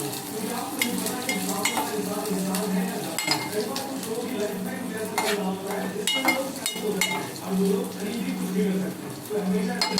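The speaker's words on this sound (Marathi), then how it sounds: "मस्त फ्राय होत आहे तेलामध्ये।" French fries crackle and bubble in hot oil with a dense close sizzle, punctuated by metal utensil clinks and scraping, and a humming tone underneath.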